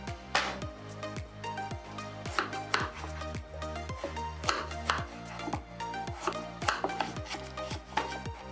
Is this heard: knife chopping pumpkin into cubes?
yes